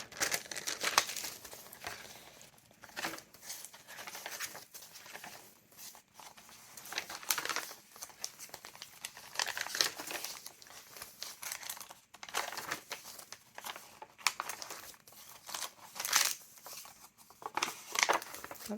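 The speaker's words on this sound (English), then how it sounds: "That's some thick art paper there." Thick art paper and ledger pages of a grungy handmade junk journal being flipped through, with continuous papery rustling and crinkling and repeated soft page turns, close and steady, no talking.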